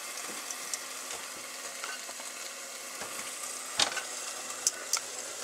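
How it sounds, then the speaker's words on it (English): Hot dogs sizzle on an outdoor grill at a cookout, a steady soft crackling hiss running throughout with a few sharper pops and spits near the end, fairly quiet and with no one talking. "Hot dogs are on the grill."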